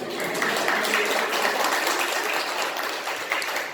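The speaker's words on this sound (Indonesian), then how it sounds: "Terus tepuk tangan, Bu." Steady applause from a crowd at an academic graduation ceremony, a dense patter of clapping hands sustained throughout at moderate loudness, no talking.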